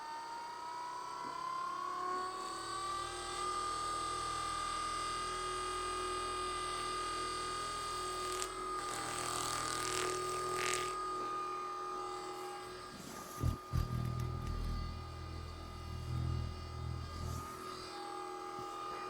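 A Renpho massage gun runs at its highest level, giving a steady, close electric motor whine rich in buzzing overtones that holds constant, with a few brief knocks late on.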